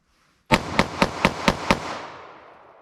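Six rapid handgun shots fired at a target in a reload drill, sharp and evenly spaced, ringing out one after another in a single burst with a trailing echo.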